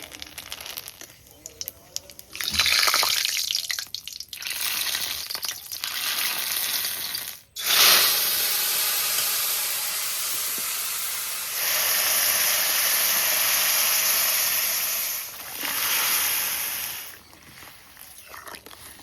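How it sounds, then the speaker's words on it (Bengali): Whole cumin seeds and bay leaves sizzle and spit in hot mustard oil in a pan, a loud hissing crackle that flares sharply around the middle and surges again later, steady and close with no talk. "তেলের মধ্যে গোটা জিরে আর তেজপাতা দিয়ে দেবো।"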